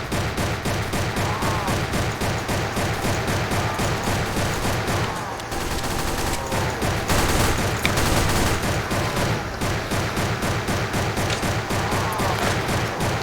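Rapid automatic turret gunfire in the Roblox shooter The Final Stand 2, a dense, loud, continuous stream of shots with a brief lull midway before firing resumes.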